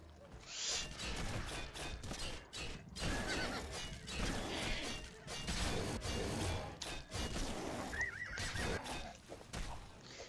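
Combat clatter and impacts in the video game Oblivion as a horse comes under attack from a Minotaur, with a brief wavering whinny near the end amid the thumping fight noise.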